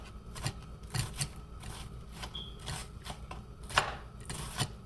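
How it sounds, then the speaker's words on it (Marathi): Kitchen knife chopping vegetables finely for tomato potato rassa bhaji, a series of soft, irregular taps against a board at close range, quiet and without talk. "जेवढा बारीक चिरता येईल तेवढा चिरा"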